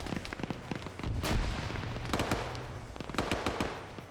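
Grenades and gunfire burst across a multiplayer battle in a military shooter game, a dense run of sharp cracks with a heavy explosive boom near the middle, steady and moderately loud without talk.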